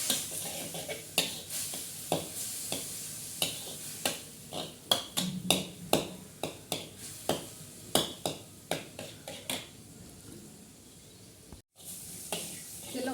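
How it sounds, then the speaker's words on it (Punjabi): Spice masala roasts in a little oil for stuffed brinjal, with a soft continuous sizzle and repeated scraping, clinking stirs of a spoon against the pan at a steady rhythm. "ਇਹ ਬਹੁਤ ਘੱਟ ਤੇਲ ਪਾਇਆ ਮੈਂ ਆਪਾਂ ਮਸਾਲਾ ਭੁੰਨਾਂਗੇ"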